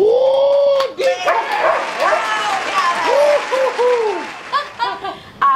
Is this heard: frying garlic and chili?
no